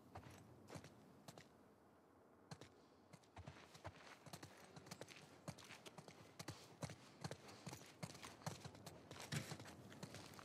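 Horse hooves clip-clop steadily on hard ground, a brisk, irregular patter of several animals walking, moderately close with no talking, in the PS5 video game The Last of Us Part II Remastered.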